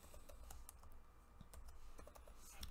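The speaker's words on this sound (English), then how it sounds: "Pardon my slow typing here." Slow keyboard typing during a CNC programming lecture, with scattered individual key clicks in an irregular rhythm over a low room hum, close and fairly quiet, with no speech.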